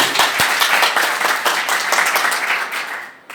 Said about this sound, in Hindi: राहुल के लिए मेरे एक जोरदार तालियां होनी चाहिए।